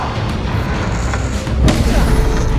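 A Bombarda spell explodes in Hogwarts Legacy: a sudden broadband blast bursts out partway through a continuous, dense rumbling din.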